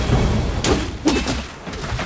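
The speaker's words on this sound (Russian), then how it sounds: "Огненный взрыв!" Fire blast explosion attack in the action game Black Myth: Wukong, a few dull booming thumps in quick succession over a rumbling, noisy backdrop.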